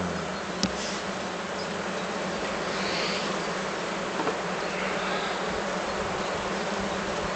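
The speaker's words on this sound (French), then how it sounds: "Là, il y a de l'abeille. Ça manque pas de population." Black honeybees buzz steadily in an open hive during a spring colony inspection, a dense continuous drone close by with no talk.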